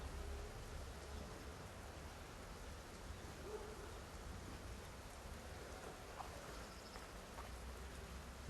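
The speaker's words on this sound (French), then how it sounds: "Il se met à pleuvoir." Light rain falls steadily outdoors in rural Haute-Normandie, France, a soft continuous hiss of drops with no voices.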